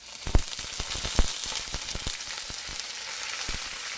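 Milk poured into a golden-brown butter and flour roux in a hot pan sets off a steady, close sizzle, with scattered sharp crackles and pops near the start that ease into a continuous hiss.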